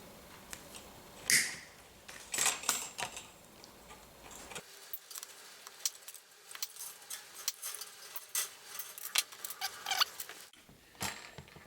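Small snips or cutters clip the legs of HO scale model chain link fence posts to 15mm, giving a series of sharp, close ticks and snaps spaced irregularly over near-silence.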